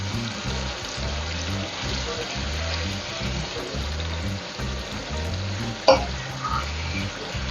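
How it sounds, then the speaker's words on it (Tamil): Chicken and masala sizzle and fry steadily in a pan while a Tamil home cook prepares chicken varuval without added water, with occasional stirring scrapes and one sharp clatter near the end. "இந்த மசாலா, இந்த சிக்கன் எல்லாம் நல்லா வேகட்டும்."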